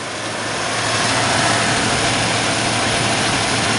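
A Buick Roadmaster car engine runs steadily after being cranked, a loud, continuous low rumble with a broad roar that holds even throughout, with no voices.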